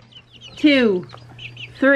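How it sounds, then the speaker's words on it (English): A small Polish chicken clucks close by in short, loud bursts, with a person talking between the calls. "It's literally the cutest chicken. So it's a small chicken. It's called a Polish chicken."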